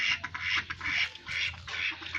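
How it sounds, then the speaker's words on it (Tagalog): Pet ducks on a rural Philippine farm quack in a loud, continuous chorus of overlapping calls close by, with a low hum underneath. "yung mga alaga niyang bibe"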